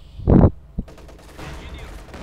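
Gunfire from the real-time strategy game Company of Heroes 2: a loud, dense burst of shots lasting a fraction of a second, then one shorter crack, over a low background of in-game battle noise.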